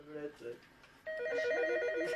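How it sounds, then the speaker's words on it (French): An office telephone rings repeatedly in a bookseller's shop, a steady electronic ring that starts partway through and keeps going, loud and close, following a brief stretch of quieter room sound and faint talk. "Le téléphone sonne sans arrêt"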